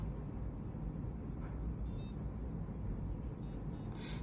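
Short high electronic beeps sound once, then three more in quick succession near the end, over a steady low hum.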